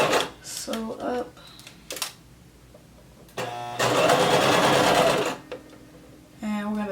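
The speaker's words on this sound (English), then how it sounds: "And we're going to sew all the way up until that pin" A sewing machine stitches a maxi skirt in short bursts, with one long whirring run in the middle. Close and clear, with someone talking in the gaps.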